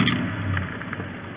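A warm truck fitted with a K&N cold air intake starts up and settles into a steady low idle, heard close and fairly loud with no talking.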